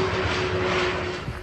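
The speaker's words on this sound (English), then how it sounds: "it's when you get an airplane flying overhead" Airplane passing overhead above a canal towpath in Eastbourne, a steady broad engine roar with a faint tonal hum holding loud and even throughout, no voices.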